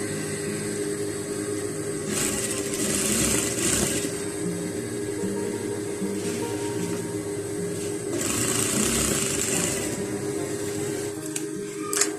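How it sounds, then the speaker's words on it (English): A sewing machine stitching fabric while making a ruffle balloon sleeve: a steady close mechanical whirr running in bursts with short pauses, with fabric handling noise in between. "I'm going to fold and sew."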